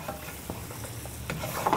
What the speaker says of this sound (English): as I draw the spatula across the pan, it leaves a clear trail from one side to the other